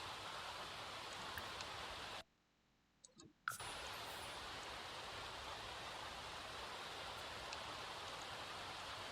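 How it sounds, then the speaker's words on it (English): Steady, dense rain hissing close by during a thunderstorm, broken by a brief quiet gap with a few clicks before the downpour resumes. "it is like pouring the fucking rain"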